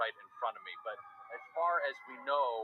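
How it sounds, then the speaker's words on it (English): A fire truck siren wails steadily as the truck leaves the downtown fire station in Raleigh, North Carolina, at night, heard at a moderate distance beneath someone talking continuously. "That is just a fire truck leaving"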